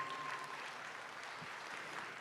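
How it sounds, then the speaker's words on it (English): Audience applause at a crossbred market barrow show, a faint, even patter of clapping from a distant crowd that continues steadily for a couple of seconds. "But let's give these two showmen here a big round of applause, please."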